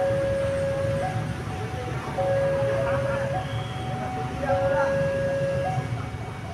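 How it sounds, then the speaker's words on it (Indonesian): A local Bandung Raya commuter train approaches track 1 at Cimindi station, with a steady rumble and repeated sustained horn tones sounding over it from a moderate distance. "Oke, lokalnya sudah nongol, persiapan masuk di jalur 1 stasiun Cimindi."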